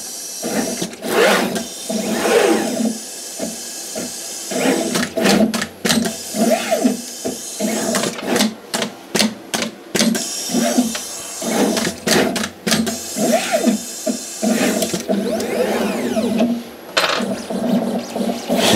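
A PCB manufacturing machine with a vacuum tube feed for LEDs runs continuously, its dense mechanical whirring broken by rapid rhythmic clicks and short bursts, loud and close throughout.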